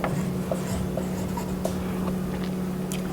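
Pen or marker scratching steadily on a board or paper while an equation is written out, short strokes repeating under a constant low electrical hum.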